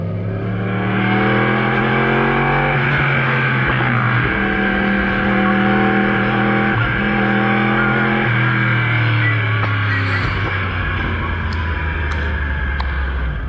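A 2018 Yamaha R1 fitted with an Akrapovic Evolution Line full-system exhaust drones loudly while being ridden, its engine note rising and falling through gear changes, heard close and continuous.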